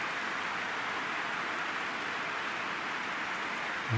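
Steady rain falling over a football match at Leeds United's ground in West Yorkshire in PES 2021, a constant soft hiss with no breaks from start to finish.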